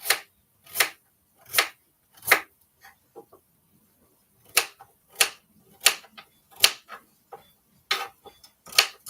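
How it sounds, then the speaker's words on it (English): A knife slicing a piece of pumpkin into thin pieces, each cut landing as a sharp, close tap on the board at a slow, uneven rhythm, with quieter knocks between cuts and no voices. "let me cut up this piece of pumpkin, cutting them real thin"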